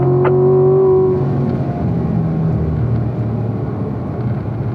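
Corvette accelerating on a race track, a loud close engine drone whose pitch climbs and shifts as the car gains speed through a section.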